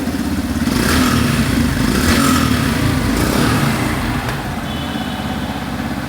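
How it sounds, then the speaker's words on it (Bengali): A new Yamaha FZS V4 motorcycle runs at a steady idle nearby, its even engine thrum loud and continuous throughout with no voices. "বাইকটা কিন্তু স্টার্ট করা হয়েছে এবং আপনারা সাউন্ডটা শুনতে পাচ্ছেন আশা করি।"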